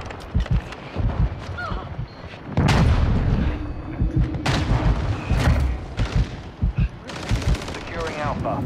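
Rapid bursts of automatic gunfire and heavy booming shots in Call of Duty: Modern Warfare II multiplayer, loud and close, with short radio-style voice callouts between volleys.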